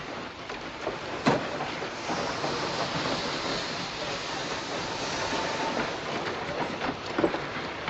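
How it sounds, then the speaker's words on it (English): Train rolling along the tracks in a 1951 wartime film, a steady broad rumble with faint clicking and a couple of sharper clanks, continuous and moderately loud. "Our trains are coming."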